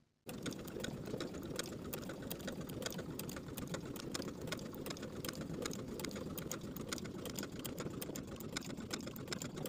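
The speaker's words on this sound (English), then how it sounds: "top stitching the shoulder seams on the yoke side of the garment" A sewing machine runs continuously, top stitching the shoulder seams on the yoke side of a shirt, a close, even, rapid mechanical whir with a fast ticking rhythm after a brief silent start.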